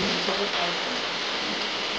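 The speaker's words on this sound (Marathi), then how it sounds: "रात्रीचा पाऊस पडतोय पूर्ण गरजतोय चमकतोय" Heavy rain pours down at night in a dense, continuous roar, loud and close, with a low rumble of thunder underneath and no talking.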